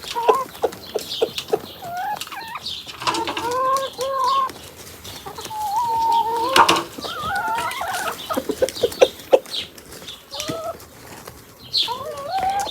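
Farmyard chickens cluck and squawk in bursts close by, with sharp rising calls and a scattered chorus of hens over a quiet rural background.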